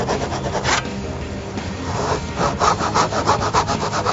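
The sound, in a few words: back saw cutting wooden tenon by hand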